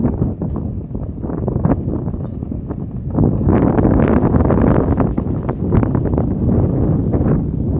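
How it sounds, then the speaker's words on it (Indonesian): Strong wind gusting across a hilltop near a small village, a loud continuous rush that buffets the microphone and swells louder midway, with no voices. "anginnya sangat kencang."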